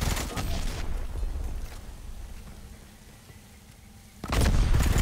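Two gunshots fired in the video game Predator: Hunting Grounds, loud and close, a sharp burst at the start and another at the end with quieter game ambience between.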